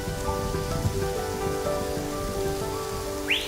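Heavy rain pours steadily over low-lying Amazon jungle east of the Andes, a dense continuous hiss of drops on foliage and wet ground, with a brief higher sound near the end.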